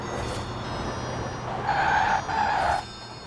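In Forza Horizon 4, a Rimac Concept 2 race car brakes hard into corners with its engine droning steadily. Two sharp tire squeals rise in succession near the end, and no one speaks.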